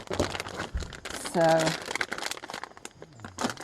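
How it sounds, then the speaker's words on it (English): A plastic bag crinkles and rustles sharply as it is opened to mix a triple berry blend at a creek campground, with a brief speaking voice at the start. "I'm going to just use my plastic bag to mix it in."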